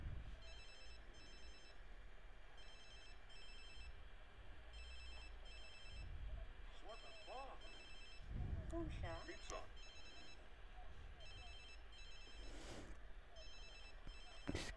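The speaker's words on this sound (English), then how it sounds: "The phone always rings, doesn't it?" A telephone rings repeatedly in The Sims 3, rapid trilling bursts in a regular pattern that sound faint under a voice speaking over the game.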